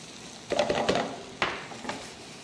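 Stuffing mixture of beef and Regal oats for stuffing muffins being mixed in a bowl, a few close utensil scrapes and clinks in short bursts over about two seconds, no voices.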